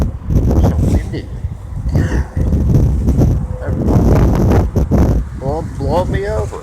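Gusty high wind batters the microphone beside a motel pool, a loud steady roar rising and falling in waves as someone speaks over it.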